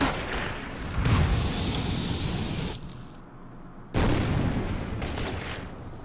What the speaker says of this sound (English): Let's take some shots at the bandits.